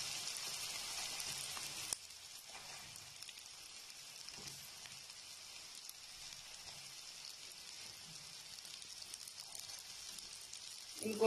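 Button mushrooms frying in butter and garlic in a pan give a soft, steady sizzle, fairly quiet and continuous, with a faint clatter near the start and end.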